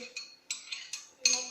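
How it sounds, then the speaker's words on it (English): A utensil stirs melted butter into shortbread crumbs in a bowl, making four or five short scraping and clinking strokes at a steady pace, close but soft, with no talking. "I've added the melted butter in the shortbread and then I've mixed it."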